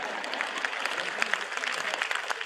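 Audience applause fills a hall during a Gujarati motivational talk, a dense, steady patter of many hands clapping for about two and a half seconds at moderate volume, with no voice on top.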